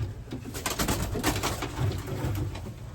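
Several racing pigeons coo together in a loft, soft rolling throaty calls layered over one another with light flutters and scratching, close and continuous, no voices.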